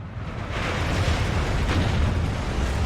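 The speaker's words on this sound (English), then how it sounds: "Artillery flying all the way over here." Artillery explosions in the strategy game Steel Division 2 blend into a dense, continuous booming rumble, loud and unbroken with deep low-end weight and no talk.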